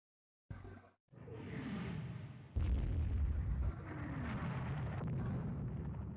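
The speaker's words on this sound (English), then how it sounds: "Taking some heavy gun fire." Naval combat plays out in the warship video game Rule the Waves 2 under heavy gunfire, with booming shell explosions and swooshing bursts. A sharp blast comes after a brief gap, and then a long rumbling sequence of impacts continues without talk.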